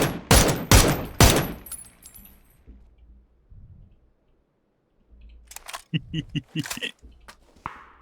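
Bursts of gunfire from the online battle game PUBG, a loud rapid volley at the start, then quieter scattered shots later, with people talking and laughing over the game.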